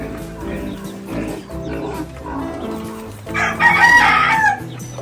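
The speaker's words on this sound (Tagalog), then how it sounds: "Dito yung sisiw dito na marami." Chickens and chicks cluck and peep in a backyard free-range farm, with a loud rooster crow rising near the end amid other farm animal sounds.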